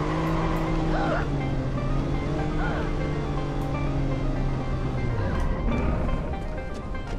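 A stolen car in Watch Dogs drives off, its engine droning loud and steady with a falling pitch sweep near the end and faint tire noise underneath.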